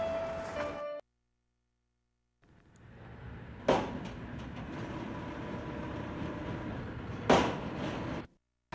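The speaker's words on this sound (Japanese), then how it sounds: "僕は地下鉄を乗り継いで神田へとやってきた。" Subway train ride in the PS2 video game Blood: The Last Vampire: a steady rumbling rail drone with two sharp clanks, cut off by a short silence near the start.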